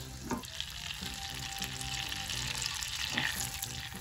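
Butter melting in a hot pan for pancakes, a continuous bright sizzle and crackle held close and steady throughout, with a couple of faint knocks and no voices.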